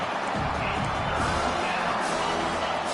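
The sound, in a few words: football stadium crowd roaring and cheering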